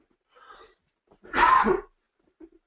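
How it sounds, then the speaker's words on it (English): A single sharp, explosive cough or sneeze bursts out close by, preceded by a soft breath and followed by quiet. "Oh dear, I'm sorry for this little cough I've got"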